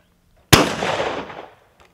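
A shotgun fires once at a clay target outdoors, a single sharp loud blast followed by a rolling echo that fades over about a second.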